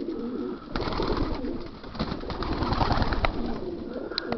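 Yearling racing pigeons in a loft coo continuously, a dense, close chorus of low rolling calls with occasional wing or foot shuffles, no talking.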